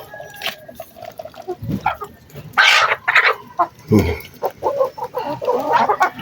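Chickens cluck and squawk in irregular bursts nearby, with scattered farmyard noises and a few faint human sounds mixed in.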